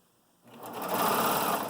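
A sewing machine starts up and runs in a fast, steady buzzing whir while stitching ties into an apron, close and loud after a brief quiet start.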